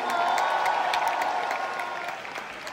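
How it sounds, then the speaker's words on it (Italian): A concert audience at Nerd Show 2024 claps and cheers for the show steadily for a few seconds, the applause fading slightly toward the end. "voglio un applauso anche per Rachel."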